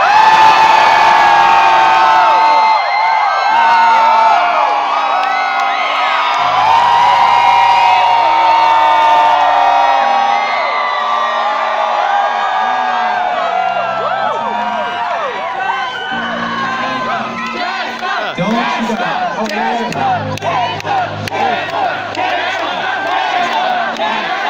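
A concert crowd at a rock show roars with loud, sustained cheering, whoops and shouting for about 25 seconds, with a steady wall of voices and no single speaker.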